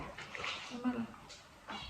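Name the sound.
small dog whimpering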